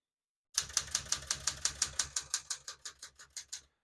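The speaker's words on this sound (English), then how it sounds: "We're going to keep that on single for now and finish typing." Rapid typing on a 1974 Smith-Corona Galaxie Twelve portable typewriter, about a dozen crisp, evenly spaced key strikes close up, slowing and fading slightly toward the end, with no talking.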